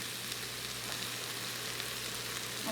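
Cabbage frying with fried rice in an Instant Pot gives a faint, even sizzle that holds steady throughout.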